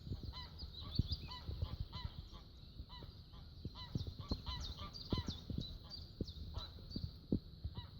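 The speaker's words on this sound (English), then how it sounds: "And the geese are waking up." Geese in the Biesbosch wilderness give repeated honks at a distance, with quieter thumps and rustles close by.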